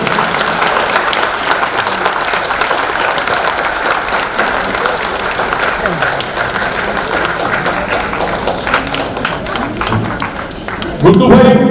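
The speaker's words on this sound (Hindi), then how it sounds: "जोर से ताली" An audience applauds at a Hindi theatre play staged by a West Bengal group, a sustained dense roar of clapping from a large crowd filling the hall, with a voice speaking near the end.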